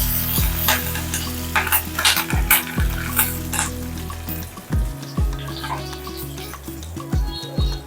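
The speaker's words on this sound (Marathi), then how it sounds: "थोडा कडीपत्ता घालूया" Curry leaves hit hot oil for Marwari kadhi, making a loud crackling sizzle punctuated by sharp spoon knocks and scrapes on the pot, over a steady low tone.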